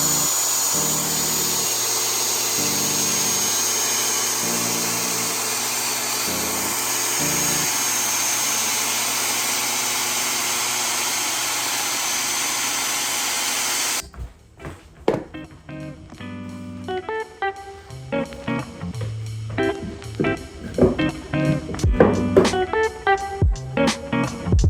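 A power saw cutting through wood in a workshop, with a loud, steady whine for about fourteen seconds that then gives way to quieter, irregular knocks and handling sounds.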